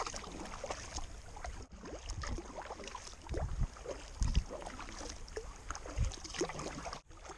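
A kayak is paddled across a calm lake on a solo fishing and camping trip in Temagami: soft, irregular paddle dips and trickling drips against light wind noise, close and fairly quiet, with no voices.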